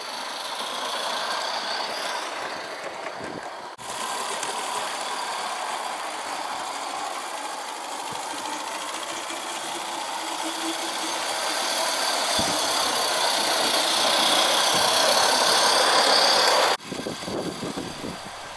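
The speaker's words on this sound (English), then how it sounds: "Roundhouse's tram has got a lot more performance than my homemade Wilkinson." A small ready-made Roundhouse model tram, an OcCre kit build, runs on an outdoor garden railway, giving a steady whirring mechanical drone that swells slightly louder as it passes close by, with no talk over it.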